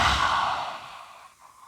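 A deep, audible exhale through the mouth during a yin yoga breathing exercise for the neck and shoulders, a single long breath close up that fades out gradually.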